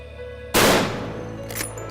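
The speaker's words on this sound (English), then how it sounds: "it's important to test fire our rifles to ensure they're still on 0" Single rifle test shot fired on a hunting range in Hungary, a sharp loud crack followed by a decaying rumble against steady background noise.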